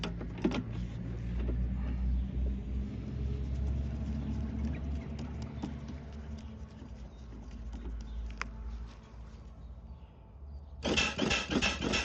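A Buddel trenchless pipe jacking machine runs with a steady low motor hum and mechanical whir throughout, close and continuous, with a louder buzzing burst near the end.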